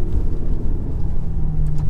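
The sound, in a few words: GT car engine and gear shift in video game Gran Turismo Sport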